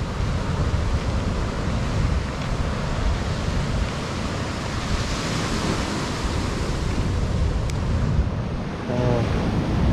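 Ocean surf at Pidakan beach in Pacitan rolls as a steady, loud broadband wash with some wind on the microphone, continuous for the whole stretch with no voices.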